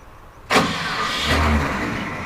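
A car engine cranks and catches abruptly, then settles into a steady, close idle with a slight rise in rumble, no voices present.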